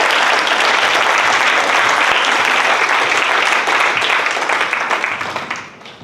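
A crowd at a business coaching event gives sustained, loud applause in a dense wash of clapping that holds steady for several seconds, then fades out near the end.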